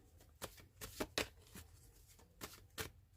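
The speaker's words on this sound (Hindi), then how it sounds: "सिंगल शफल रहेगा महाकाल" Tarot cards get a single shuffle, heard as faint, quick riffling bursts at irregular intervals over quiet room noise.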